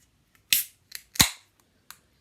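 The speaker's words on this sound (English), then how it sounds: "let's crack it on open." A few sharp pops and clicks as a Coopers Australian Lager beer bottle is cracked open, one louder crack among them, close by and quiet between.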